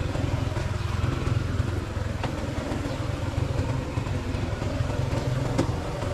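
A motorcycle engine idles steadily indoors in a warehouse, a low continuous rumble with no speech over it.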